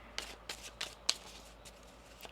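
Tarot cards being shuffled by hand, giving soft, quiet riffles and a few crisp snaps in a brief, otherwise hushed room.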